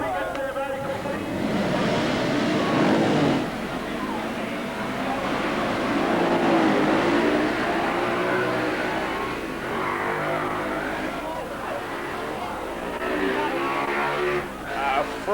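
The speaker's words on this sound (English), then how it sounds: "Frantic start down there on the grid as the 40 bikes got away, but Crosby, although he didn't fire first," About forty production motorcycles roar away from the grid at the start of the 1978 Castrol Six Hour race at Amaroo Park, a dense, wavering engine drone under continuous commentary.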